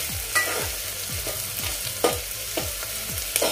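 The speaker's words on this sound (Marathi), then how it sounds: "आता हे मसाले सुद्धा आपण फक्त 1-2 मिनिट परतूया तेलामध्ये घ्या" Spices fry in hot oil for a tangy mixed-dal amti, with a constant sizzle. A spoon stirs through them in quick, regular scraping strokes, close and fairly loud.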